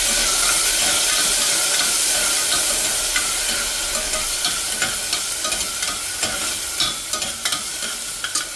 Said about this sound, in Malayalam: അരി വാഷ് ചെയ്ത് ഒന്ന് വാട്ടും.